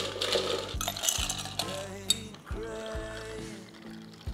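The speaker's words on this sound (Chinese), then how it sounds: "我会直接再加冰块。" Ice cubes clatter and clink into cold brew coffee, several bright knocks and jingles in quick succession, close and fairly clear against a soft pouring sound.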